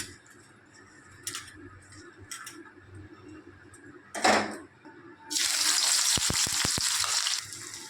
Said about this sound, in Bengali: তেলটা গরম হলে দিয়ে দিচ্ছি দুখানা বড় মাপের পেঁয়াজ কুচি করে কেটে রাখা।